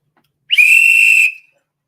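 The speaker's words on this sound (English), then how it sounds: "Where's my whistle?" A single sharp whistle blast, shrill and steady for under a second, then cut off, loud and close in an otherwise quiet space.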